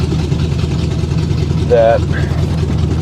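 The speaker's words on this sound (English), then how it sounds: "So we're getting somewhere with the engine." A Ford Granada engine runs at a steady idle with a low, even rumble and a possible sticking lifter. It is close and loud throughout, and someone speaks briefly over it.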